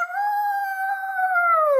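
A group of children imitate a wolf with their voices during a kids' storytime, one sustained howl lasting nearly two seconds, loud and close, its pitch holding steady before sliding down at the end.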